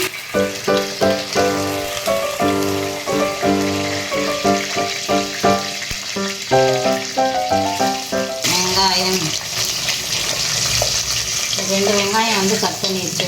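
Ginger garlic paste and garlic frying in a pan, sizzling under steady stirring and clinking of a spoon against the pan, with a louder burst of sizzle near the end.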